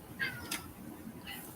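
A cat gives two short, soft meows a moment apart, faint and close, in a quiet indoor room.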